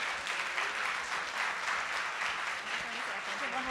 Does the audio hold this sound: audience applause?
yes